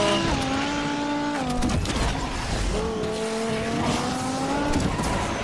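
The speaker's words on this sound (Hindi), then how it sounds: "अरे अरे बड़ी तेजी से घूम रही है भाई हमारी गाड़ी तो" In the Asphalt 9 racing game, a race car's engine wails loudly while its tyres squeal and skid as it spins out. The engine pitch drops, then climbs again over a rough, continuous scrubbing noise.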